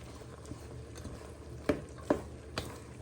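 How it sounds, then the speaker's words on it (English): Taco soup ingredients stirred in a pan: quiet scraping with a couple of distinct clinks of spoon on metal over a faint low bubbling. "We give that a little bit of a stir for a minute or two."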